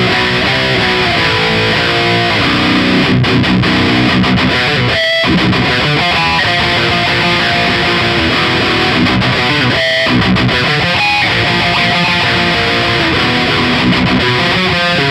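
A BR Rich NJ Beast electric guitar with a Floyd Rose bridge plays through an amp, giving loud, continuous distorted tones with a few brief breaks between phrases.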